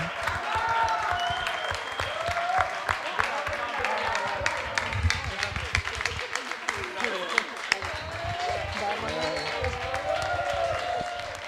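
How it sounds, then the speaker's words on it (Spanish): Audience at a closing event for a mediation and research team's projects gives sustained, dense applause and clapping lasting throughout, with some voices and cheers mixed into the steady crowd noise. "Un aplauso fuerte para ellos y ellas."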